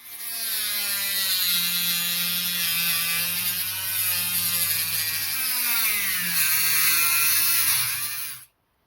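A Dremel rotary tool cuts into a plastic Nerf LongStrike blaster part, a steady close high-pitched whir with wavering pitch as the bit loads and frees, running for several seconds before stopping abruptly.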